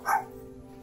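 A single short dog bark, fairly loud and close, greeting a visitor arriving at a home, followed by quiet background.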